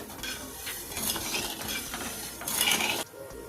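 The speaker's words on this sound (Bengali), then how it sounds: "এবারে আমি খুব ভালো করে চিনির সাথে দুধটা নেড়ে চেড়ে ফুটিয়ে নেই" Milk and sugar stirred in a pot with a spoon scraping steadily against the metal and a faint sizzle, loud and close, stopping abruptly near the end.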